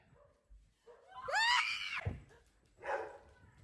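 A dog yelps and whines in a high, wavering cry, followed by a second shorter whimper, fairly close.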